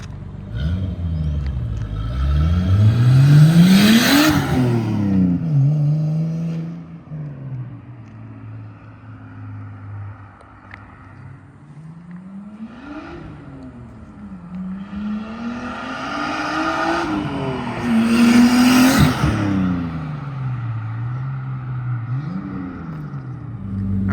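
A 1998 Nissan Skyline R34 25GTT engine revs and roars past twice, rising then fading, with a deep rumble and a turbo flutter between the loud passes.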